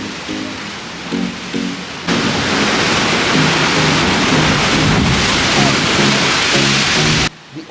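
Aggressive ocean waves on the rocky Oregon coast near Thor's Well surge in with a loud, sustained roaring crash after softer wash and a voice speaking at first.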